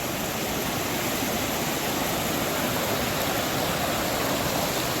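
Whitewater rapids on the Scantic River in a Connecticut state park rush in a steady, loud, unbroken roar of churning water throughout, with no voices.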